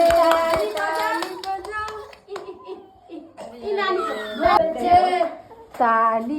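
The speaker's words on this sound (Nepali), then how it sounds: "ताली बजाऊ" Children clapping their hands in short bursts, with children's voices talking and chuckling between and over the claps, close and fairly loud.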